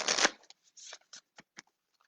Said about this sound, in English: So we do our 3 shuffles, then we cut the deck.